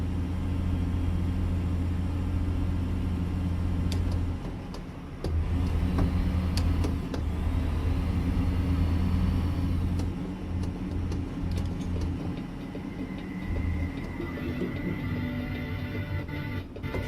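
A custom Peterbilt 389 truck hauling guardrails drives steadily, its deep engine drone and road rumble continuous throughout, with a brief dip partway through and faint clicks and rattles in the cab.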